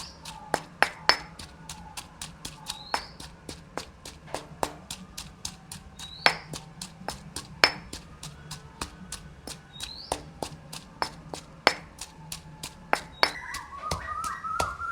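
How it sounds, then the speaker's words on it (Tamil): Onions and garlic pounded in a mortar for a tempered sambal, a long run of steady, rapid, sharp pestle strikes, close and fairly loud, with no talking. "வெங்காயம் உள்ளியெல்லாம் வடிவாக இடிவடணும்"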